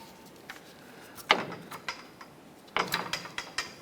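Ratchet clicks come in short bursts while nuts are run onto lower control arm bolts of a 1994-2004 Chevrolet S10, close and crisp with brief pauses between strokes and no talking.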